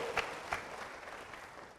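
A church congregation breaks into brief applause, a dense wash of many hands clapping at moderate volume that tapers off within two seconds.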